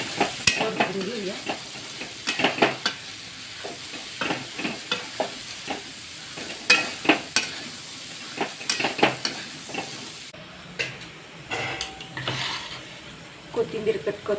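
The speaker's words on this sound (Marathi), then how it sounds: "आता आपण उकडून शिजवून घेतलेले हरभरे घालून घेऊया." Boiled chickpeas being sautéed in a pan for a usal, with a steady sizzle and repeated scraping stirs of a spoon against the pan in irregular bursts, close and moderately loud.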